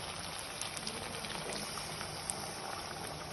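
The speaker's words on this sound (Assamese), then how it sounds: "ইয়াত এতিয়া লাহেকৈ অলপ গৰম পানী বাকি দিব" Hot water poured into a pan of frying pointed gourd (potol) gives a soft, steady hiss and bubbling sizzle, faint and continuous, with no talking.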